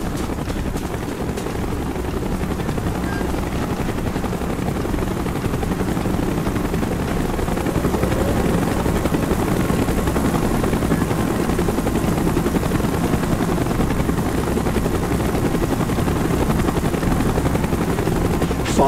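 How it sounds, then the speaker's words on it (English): Helicopter rotor thudding steadily and loudly throughout in a Call of Duty: Black Ops mission, a continuous low drone with faint gunfire-like crackles mixed in. "Chopper's inbound."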